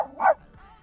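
A dog barks angrily at a doll, a single sharp, loud bark up close, followed by quiet.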